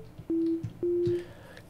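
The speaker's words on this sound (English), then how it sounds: "So we just have a basic sine wave here." A basic sine wave from the Ableton Operator synth plays as two short, steady low tones of equal length with a brief gap between, clean and loud, with no talk.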